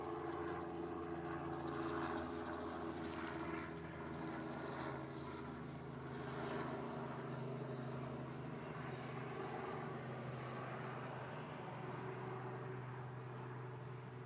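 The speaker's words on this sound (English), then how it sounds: "It's Hawaiian flight 864. It's a 330." A Hawaiian Airlines Airbus A330, flight 864, at Honolulu gives a sustained droning engine hum with steady tonal layers and gentle swells, fairly faint and distant, with no voices.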